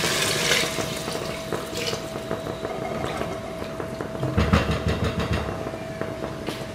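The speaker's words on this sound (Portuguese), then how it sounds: "Agora colocar a água." Water is poured into a cooking pot, a steady splashing and trickling stream close by that grows fuller and louder toward the end.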